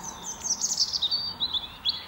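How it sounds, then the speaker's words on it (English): Birds tweet outdoors beside a recording studio, a run of quick, high chirps close together, moderately loud over faint background ambience, with no talking. "listening to the birds tweeting."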